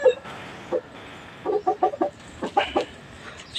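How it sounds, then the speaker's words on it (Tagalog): Gamecock fighting chickens on a farm cluck in short, close bursts, a few scattered calls and then a quick run of clucks over a quiet background with no talking. "ito yung start natin sa ating pagpa-farm ng mga manok pang sabong"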